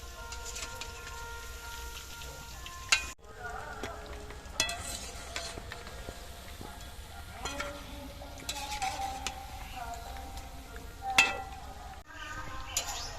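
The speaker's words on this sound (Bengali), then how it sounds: "এরকম হালকা হালকা গরমেই চিকেনগুলো ভেজে নেব। একটা পিঠ হয়ে গেছে, এবার আর একটা পিঠ উল্টিয়ে দেবো এইভাবে।" Chicken pakoras fry gently in oil over low heat while a utensil flips them in the pan. A soft, steady sizzle continues with occasional metallic clinks and scrapes from the turning.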